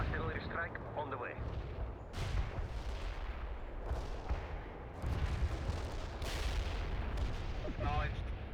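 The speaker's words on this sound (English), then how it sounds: "Heavy fire support here. Got any coordinates? Artillery strike on the way." An artillery strike in the World in Conflict war game lands as several heavy rumbling blasts that roll in one after another over a battlefield din, with short bursts of radio voices at the start and end.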